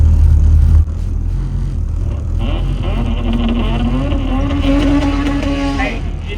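A budget turbocharged Honda Civic drag car idles and warms up at a St. Louis index race, a steady loud engine drone with rising tonal whine in the latter half, voices talking faintly underneath.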